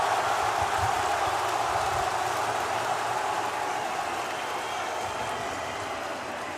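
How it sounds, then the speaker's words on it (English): A broad, steady roar of a large esports arena crowd at a Rainbow Six Siege finals fills the space, cheering and murmuring without pause, slowly easing in volume toward the end. "And the crowd springs back into life."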